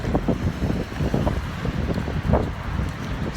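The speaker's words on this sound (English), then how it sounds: "It's also very windy." Steady wind buffeting the microphone, a low rumbling roar with gusty bursts throughout, no voices.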